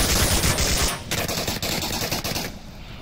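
Gunfire in the VR shooter Onward during a competitive league match: rapid bursts of automatic shots, dense and loud, followed by a few separate cracks before it stops.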